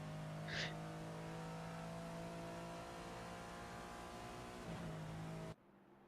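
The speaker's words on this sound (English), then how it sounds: "I love following the Lambo. It sounds so much better than the other cars." A Lamborghini race car engine in a racing video game drones steadily and continuously at moderate volume, a sustained tonal engine note with slight pitch shifts, before cutting off abruptly near the end.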